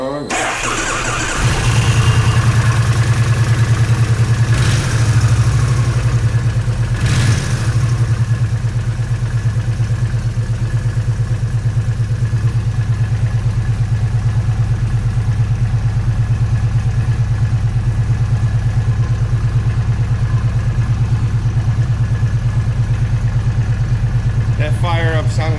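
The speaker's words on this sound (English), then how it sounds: "That fire up sounded actually really good." A 2007 Kawasaki Vulcan 1600 cruiser on its stock exhaust cranks and fires up, then settles into a loud, steady, deep idle that runs on close by for over twenty seconds, with a few brief clunks along the way.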